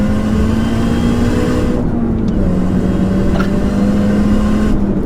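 Supercharger whine from a Mini Cooper GP R53 under acceleration, a steady loud engine drone with a sustained tonal whine riding over it, continuous throughout.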